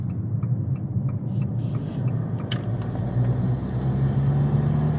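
An Abarth 595 Competizione 180 hp engine pulling in third gear from low revs, a steady close rumbling drone that swells slightly as it accelerates.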